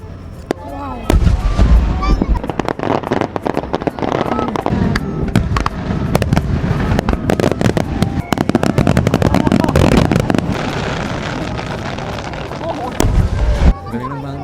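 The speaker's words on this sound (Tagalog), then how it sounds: "Galing ng mga fireworks ha." A hanabi fireworks display in Japan bursts nonstop, with rapid crackling pops and booming explosions in a dense, loud barrage, while people speak and react beneath it.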